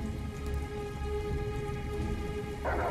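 Thunderstorm rain in the video game Detroit: Become Human, a steady close hiss of falling rain with a faint low rumble beneath and a brief burst of louder splashing near the end, no talking.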